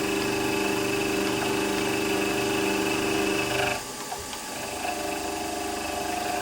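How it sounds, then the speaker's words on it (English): A WM16B milling machine runs with a steady mechanical whine and gear hum while cutting the end of a DRO scale. The tone briefly dips and roughens midway, then settles back into a continuous drone. "So I'm going to cut this and machine the ends 435 to start with."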